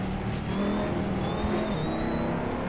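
A supercar engine at high RPM on the Nürburgring, one of a McLaren Senna, Bugatti Divo or Ferrari SF90 Stradale, with a steady loud drone and a rising whine. The recording distorts slightly at the top of the revs.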